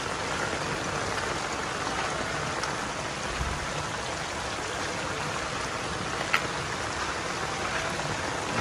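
Heavy rain pours down at a school, a steady, even roar of water with no breaks, moderately loud and unbroken apart from one faint tap, with no voices.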